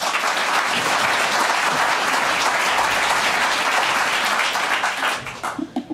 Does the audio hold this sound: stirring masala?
no